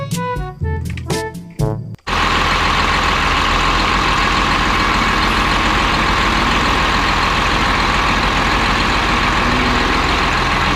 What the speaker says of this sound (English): Mining truck.